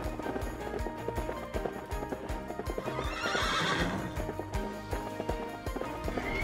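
A herd of horses plays together outdoors, with a loud, drawn-out whinny rising over steady hoofbeats and scuffling, and other neighs and thuds heard close and at a distance.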